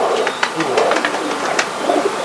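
Pigeons coo in a loft, soft repeated low calls mixed with scattered light taps and rustling, fairly close and steady over a short stretch.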